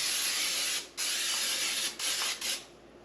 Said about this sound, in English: we're going to spray it down with some cooking spray.